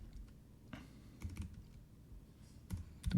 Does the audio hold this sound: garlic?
no